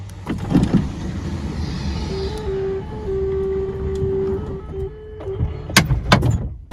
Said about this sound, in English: Take another listen to this bizarre Silhouette door closing noise.